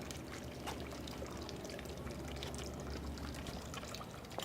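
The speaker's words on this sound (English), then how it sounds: "I like the sound of the water in the background." Soft water trickles and pours continuously in the background, a quiet, steady liquid babble.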